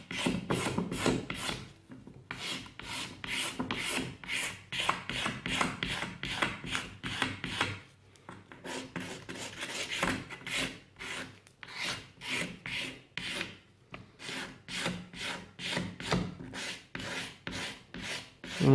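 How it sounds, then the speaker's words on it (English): A hand scraper rasps back and forth over burnt paint on wood, a steady run of short, close scraping strokes with brief pauses between bursts. "some of the burnt areas actually clean up just with a scraper"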